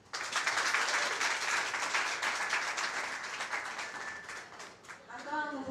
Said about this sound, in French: Nous vous demandons de les applaudir.